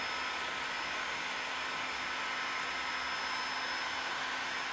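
A heat gun blows steadily as it warms trim, giving a constant, even whooshing hum with no breaks and no voices.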